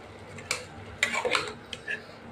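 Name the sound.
stirring water lily stems with shrimp in a cooking pan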